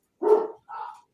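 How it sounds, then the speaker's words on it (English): A dog barks twice in quick succession, two short clear barks close to the microphone with silence around them, in a studio setting with several dogs present. "If it was my show, my dog wouldn't be barking right now."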